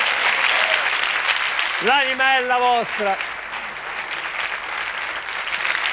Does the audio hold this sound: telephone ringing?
no